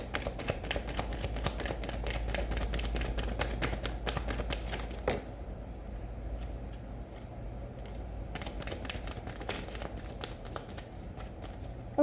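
Tarot cards shuffled by hand in rapid riffling bursts, a dense run of crisp flicks for about five seconds, a brief lull, then another stretch of shuffling, close and fairly quiet.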